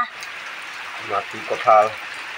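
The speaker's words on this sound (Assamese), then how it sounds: "বতৰটো কিন্তু একদম পূৰা বৰষুণ পৰি আছে" Heavy rain pours steadily outside, a constant broad hiss of drops, with a voice speaking briefly over it.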